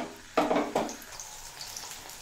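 Bitter gourd goes into hot oil left over from frying, giving two quick crackling bursts that settle into a soft, steady sizzle close by.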